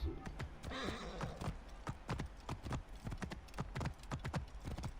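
Steady, rhythmic clip-clop of horse hooves with a brief whinny, clean and close like a game sound effect, from Assassin's Creed Origins.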